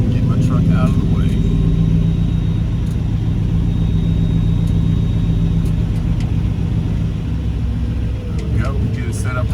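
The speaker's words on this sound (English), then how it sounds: "Get my truck out of the way." A truck engine rumbles loud and close, moving with a heavy, steady drone that dips briefly near the end. A person talks over it.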